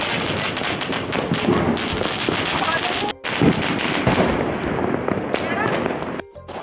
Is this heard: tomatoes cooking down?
no